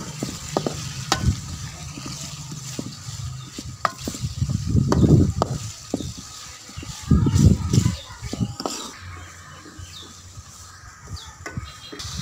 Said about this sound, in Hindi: अब इसको खूब हिलाएंगे।